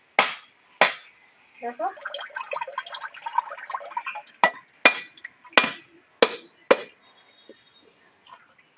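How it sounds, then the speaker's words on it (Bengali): A coconut is cracked open with sharp chopping blows, giving several loud percussive knocks spaced a second or so apart, with a stretch of gurgling, splashing coconut water between them and a brief spoken word. "প্রথমে নারকেলটাকে ফাটিয়ে কুড়িয়ে নেব।"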